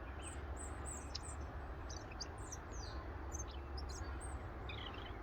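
Small birds at Lackford Lakes nature reserve give thin, high chirps and short tweets, scattered and fairly distant over a steady low outdoor rumble.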